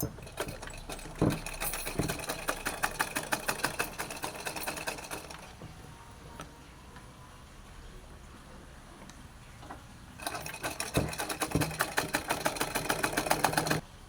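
A sewing machine stitches along a folded fabric edge, running in a steady fast chatter with a brief lull midway before speeding up again, close and loud with no voices.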